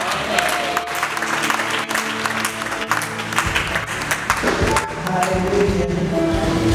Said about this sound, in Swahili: Ni makofi mmenipigia mimi jamani, mpigie Yesu